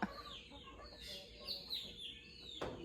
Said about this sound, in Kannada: ಕೋಳಿ ಗುಡ್ ಮಾರ್ನಿಂಗ್ ಹೇಳ್ತಾ ಇದೆ.